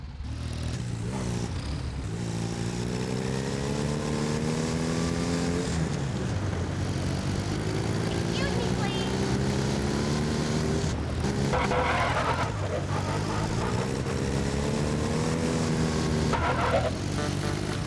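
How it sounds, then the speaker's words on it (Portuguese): A remastered Wildfire motorcycle engine from GTA San Andreas drones loud and steady, its pitch rising and falling as the bike accelerates and slows, with a clattering burst partway through. "O áudio da moto"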